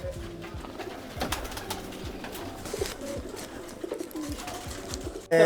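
A loft of pigeons, including white, Rampuri and Teddy birds, cooing continuously in a soft layered chorus with scattered flutters, ending in a sudden loud close noise.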